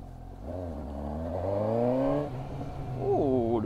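A Suzuki GSX-S 750 or Honda CB650R motorcycle engine revs up in a smooth rising pitch, drops back, then surges again in a short second burst, close and alone without speech.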